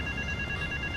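A phone ringing in GTA Vice City, a steady electronic ring tone held throughout a brief moment at low volume.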